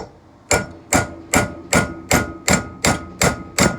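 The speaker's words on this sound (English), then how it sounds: "we're gonna go ahead and take our cold chisel up in those corners" A cold chisel struck by a hammer, working into corners while fitting barrel tenons on a smoothbore barrel: eight sharp, evenly spaced metallic blows, close and loud with short ringing decay.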